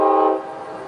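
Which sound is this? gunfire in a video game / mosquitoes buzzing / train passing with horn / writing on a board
train passing with horn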